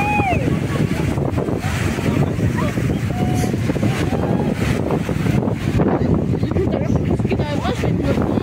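Steady wind on a beach buffets the microphone in a constant roar, with waves faintly underneath and a voice speaking in French over it.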